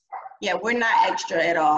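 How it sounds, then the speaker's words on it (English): A dog barks and yips close by, sharp short calls mixed in with a person talking over them. "that's my dog"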